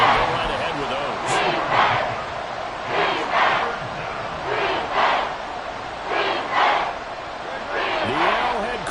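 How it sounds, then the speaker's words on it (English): A video-game stadium crowd at Arrowhead in Madden 24 roars loudly and continuously, rising in repeated swells of cheering and yelling. "The Arrowhead crowd in full roar."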